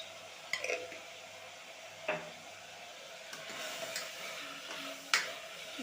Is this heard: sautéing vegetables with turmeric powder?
yes